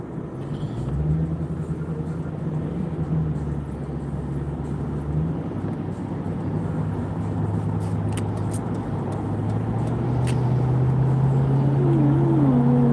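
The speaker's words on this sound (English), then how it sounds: "driving my Cadillac" A Cadillac car driving on a road, a steady low engine rumble and road noise heard from inside, with a tone that rises slightly as the car picks up speed, no talk.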